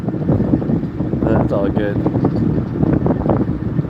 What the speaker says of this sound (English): Well, it's windy, man.